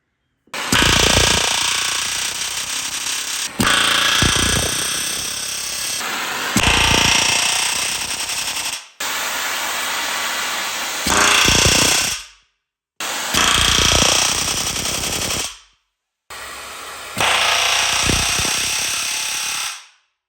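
A rivet hammer pounds hot rivets into a K10 truck frame cross member. It makes loud, rapid hammering bursts, close by, in six runs of about two to three seconds each, separated by short silences.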